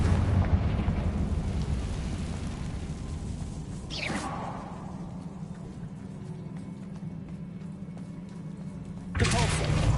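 A Confringo fire spell in Hogwarts Legacy, a game blast with a rumbling, booming spread over low-end noise, a sweeping streak near the fourth second and a fresh burst near the end, loud and sustained.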